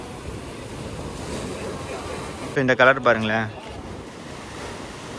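Ocean surf surges into the rocky pool of Angel's Billabong in Bali, a steady roaring wash of water with wind noise throughout, while a person talks briefly partway through.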